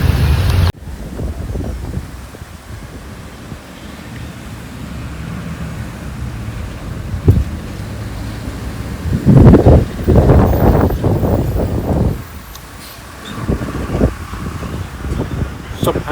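Strong cyclone wind during a storm with rain, roaring and buffeting a microphone in gusts that swell midway, while people talk over it.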